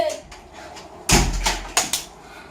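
A door is shut and locked in a home, a sudden loud thump followed by a couple of sharper knocks and clicks, close by, with faint background voices and noise before it.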